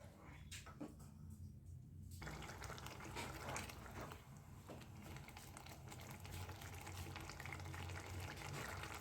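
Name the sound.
water boiling in onion tomato masala for dal makhani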